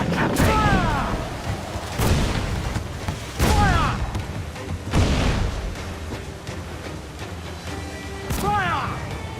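Ship cannon blasts and swivel gun shots from Assassin's Creed 4: Black Flag naval combat, with several heavy booming volleys roughly every second or two, some followed by whistling shell streaks, under intermittent shouted voices.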